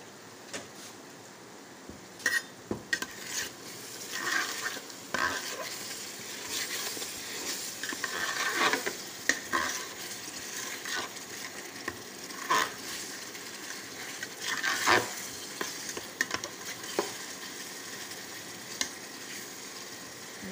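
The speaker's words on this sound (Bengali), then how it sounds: "দেখুন মশলাটা কত সুন্দর কষানো হয়েছে। আর একটু কষাবো।" Spice masala for a large magur fish curry fries in a pan with the fish fat stirred in, a continuous low sizzle broken by repeated scraping strokes of a spatula at an uneven rhythm, no voices.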